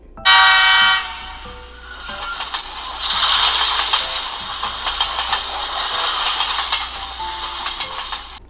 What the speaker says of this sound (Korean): Yes, it is a train.